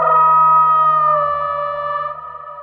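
A cinematic signature sound layer in the style of Jurassic World Dominion, pitched down one octave: a sustained, loud harmonic tone with a steady low drone that gradually softens and thins toward the end, with no voices.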